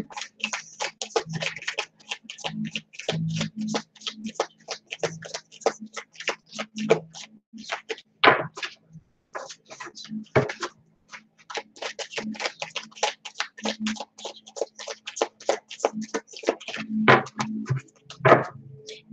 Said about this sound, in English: When I shuffle these cards